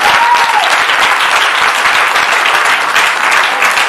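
A church congregation applauds and cheers during a worship service, steady dense clapping filling the whole stretch at close range, loud and continuous with no talk over it.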